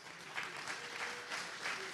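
A brief patter of clapping from the audience at an Alcoholics Anonymous meeting, faint and distant, a short rippling burst with no talking.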